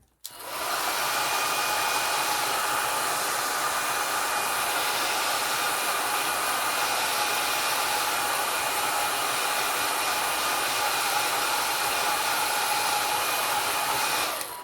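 A hair dryer blows steadily and loudly at close range for about fourteen seconds, drying alcohol ink on an art card, with no talking over it.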